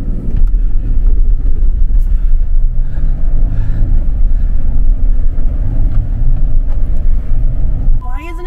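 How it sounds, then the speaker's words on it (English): A vehicle with a slipping clutch on snowy trails revs hard, its engine roaring in a loud, steady, rough drone without gaining pace, close up with wind buffeting and a brief voice near the end. "I think my clutch is slipping."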